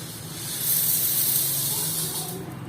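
A mixer grinder jar powders a cooled moong dal (paasipparuppu) Ashoka halwa mixture, giving a steady, loud, hissing whir that runs continuously for about three seconds.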